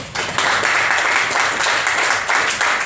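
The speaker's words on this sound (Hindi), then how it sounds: "एक बार आप लोगों को तालियां हो जाए" Audience applause at a Hindi-language presentation, a loud, continuous crowd of hands clapping that swells in brief surges with no talk over it.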